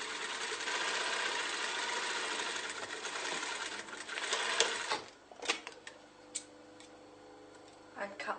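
A sewing machine stitches a second line along curtain tape on lined curtains. Steady mechanical whirring runs for about five seconds, then gives way to a few scattered clicks and handling sounds, all fairly faint.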